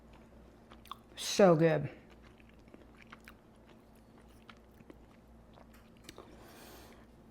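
A bite of an orange vanilla sugar cookie, crispy at the edges and chewy inside, gives a short close crunchy chew, with someone speaking briefly before and after.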